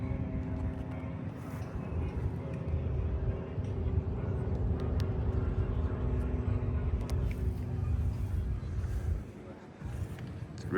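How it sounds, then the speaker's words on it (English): A four-seat helicopter's turbine spools up at Oshkosh as a steady, loud whine and roar that holds throughout, with faint speech over it. "really hear the turbine spooling up on this baby"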